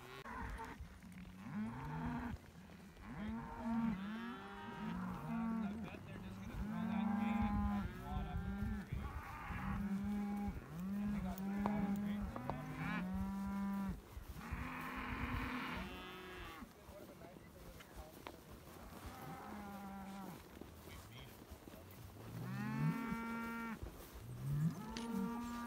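Range cattle wearing collars gather at a fence line on a forest ride and moo repeatedly, the overlapping calls coming from near and farther off across the whole stretch, with only faint talk at most.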